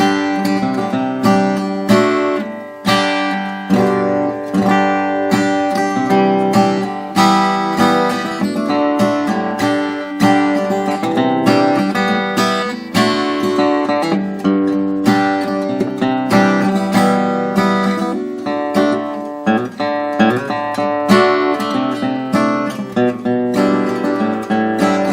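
A 1945 Gibson LG2 acoustic guitar plays a steady, full-bodied run of strummed and picked chords, close and loud, with no talking throughout.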